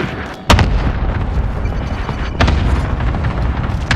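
Heavy booms from a video game airstrike killstreak roll in close and loud, two sharp blasts about two seconds apart over a dense, rumbling wash of explosions, with no talking.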